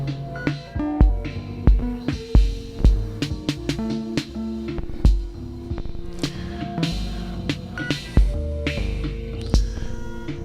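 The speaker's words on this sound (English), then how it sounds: "the 2 HP hat for the open and closed hi-hats that you can hear" Open and closed hi-hats from a 2HP hat module in a modular synth, ticking in a steady rhythm over a low hum and pulsing oscillator drones fed through filters and a mixer.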